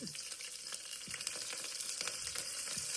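Spices, tomato and green chilli sauté in a pan for mutton stew, producing a faint, continuous sizzle broken by several soft stirring scrapes, with no talk.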